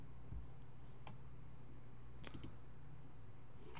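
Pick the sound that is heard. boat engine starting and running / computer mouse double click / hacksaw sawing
computer mouse double click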